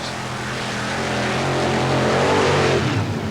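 A mud racing car powered by a 600 cubic inch Keith Black Chevrolet engine makes a cut-tire run at Bayou George, Florida, in 1990, a loud sustained engine roar that builds steadily toward its peak with no talking.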